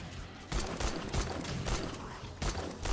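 Rapid gunfire cracks in the zombie survival game 7 Days to Die during a horde night, dense bursts of shots with a short pause, loud and close.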